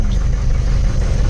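Mahindra Marshal engine just after engine work, running with a steady low rumble and mild vibration, loud and close, alone without talk.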